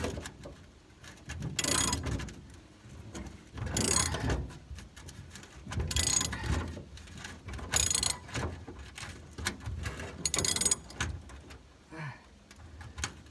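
A hand ratchet works on the bed bolts of a Ford Ranger pickup, giving repeated bursts of clicking strokes at a steady pace, close and fairly quiet.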